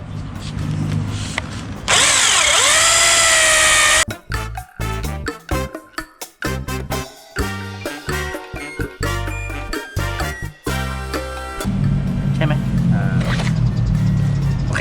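A power drill whirs in short and long bursts, churning a thick floor-crack repair compound with wet slapping and squelching sounds, and someone talks between the runs.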